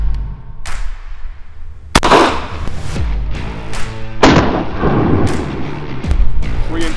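A Benelli M4 shotgun fires Fiocchi trap load shells in a rapid string of loud, sharp blasts, each with a booming echo, some seven shots over several seconds.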